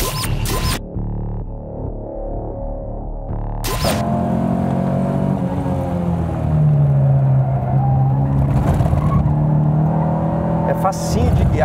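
A Volkswagen Passat TS with a manual gearbox drives on a race track. After a brief cut, the loud engine climbs steadily in pitch as it accelerates through a gear, with a voice speaking over it.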